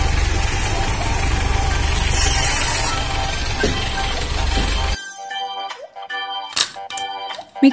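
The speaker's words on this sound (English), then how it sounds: "Tank truck." A tank truck's engine idles with a steady, low, rumbling drone for about five seconds before it cuts off and gives way to scattered clinks and other short sounds.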